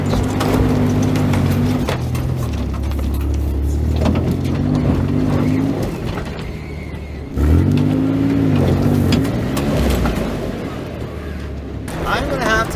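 A $500 truck grinding up a tough off-road mountain route, its engine loud and close, straining and revving unevenly with bumps and knocks from the ground, a voice speaking over it.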